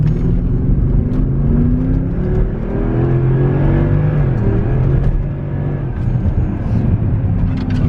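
An SUV engine hums and rumbles steadily from inside the cabin while it is driven, with loud low whirring that rises and falls slightly as it accelerates, with no talking.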